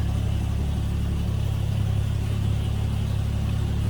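A 1950 Chevrolet 3600 truck's inline-six engine idles steadily with a deep, even rumble and a constant low hum, running alone without any voices.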